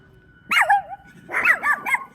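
A dog barks at another dog: a single yelping bark followed by a quick cluster of three or four sharp barks, close and fairly loud over a quiet background.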